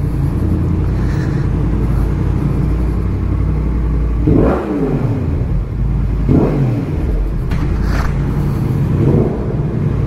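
A new motorcycle with an aftermarket exhaust line revs its engine in loud, close sweeps, rising and falling several times over a steady rumbling idle.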